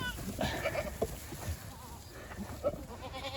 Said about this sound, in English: Watch out, goats.